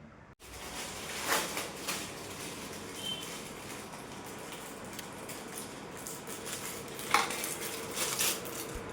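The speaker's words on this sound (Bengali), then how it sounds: "আর কটা বাসন আছে ওগুলোও মাজবো" Dishes from the night's meal are washed by hand, with pots, plates and cutlery clinking and knocking at scattered moments over a low wash of running water.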